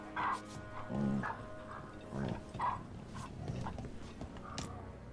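A dog in the Dragon Age: Veilguard video game barks and yips in short bursts, some louder and some softer, over low game background sound.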